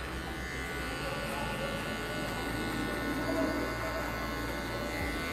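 An electric hair clipper with a zero guard buzzes steadily while cutting a fade in a barbershop, a close, continuous hum.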